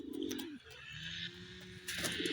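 Pigeons cooing close by in low, throaty rolling calls, several overlapping, with a few brief chirps and rustles.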